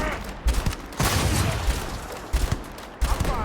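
A big gun fires in Starfield, several heavy booming bursts at irregular intervals, loud and close, with brief gaps between volleys.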